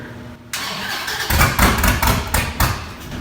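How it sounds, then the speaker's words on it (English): Fuel pump priming on a 2014 Dodge Viper TA Time Attack car, a steady whir starting after a short pause and swelling into louder pulsing surges close by, with mechanical rattles mixed in. "The fuel pump is kicking in."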